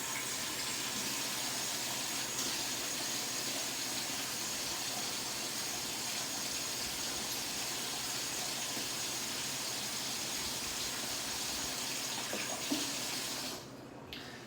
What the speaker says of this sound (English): I'm gonna wash off the pepper.